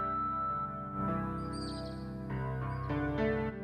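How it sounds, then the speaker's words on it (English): A nightingale sings in the King's Quest VI video game, bright chirping birdsong phrases running continuously through the full few seconds over a rich, sustained musical background. "Hello, Nightingale. What a lovely tune you sing."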